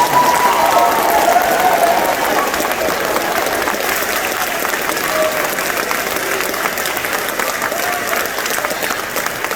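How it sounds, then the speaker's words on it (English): Sustained audience applause fills an 8th grade recognition ceremony, a steady, loud wash of clapping from a large crowd lasting the full stretch without pause. "How about one more round of applause for these guys?"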